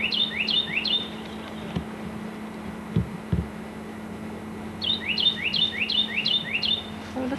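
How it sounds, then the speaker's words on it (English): A songbird outdoors in North Carolina in spring, repeating a bright, quick whistled phrase several times at the start and again in a longer run near the end, clear and fairly close over a low steady hum. "Oh, listen to that bird."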